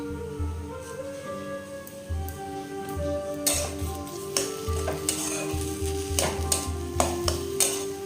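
Potato filling being mixed with chopped coriander in a pan, with a steady sizzle and repeated close spatula scrapes and taps against the pan, and no voices.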